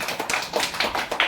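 Hands clap in a quick, fairly even rhythm at a Rabindra Jayanti celebration, about half a dozen close, crisp claps in just over a second.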